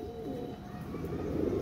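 A Pakistani pigeon gives a continuous low, rolling coo up close, steady and alone with a faint background hum.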